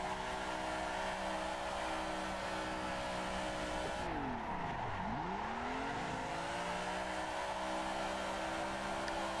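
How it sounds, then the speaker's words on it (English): Racing cars in the Assetto Corsa video game slide around a track, engines droning steadily with layered harmonic whine, then a sweeping pitch dip and rise as a car passes close by midway, loud and continuous with no talk. "Sliding the cars around here just to try and get what it's done."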